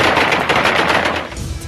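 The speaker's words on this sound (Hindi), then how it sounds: "तालिबानी आतंकियों ने काबुल एयरपोर्ट पर हवाई फायरिंग कर जीत का जश्न मनाया" Loud, dense automatic gunfire crackles continuously for under two seconds as Taliban fighters fire into the air in celebration at Kabul airport, with rapid overlapping bursts and no pause.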